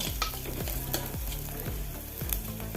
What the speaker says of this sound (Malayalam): ഇഞ്ചി ചെറുതായി അരിഞ്ഞത് എട്ടൊൻപത് വെളുത്തുള്ളി ചെറുതായി അരിഞ്ഞത് അഞ്ച് പച്ചമുളകും കീറിയത് എല്ലാം ഇട്ട് കൊടുത്ത് ഒന്ന് വാട്ടിയെടുക്കാം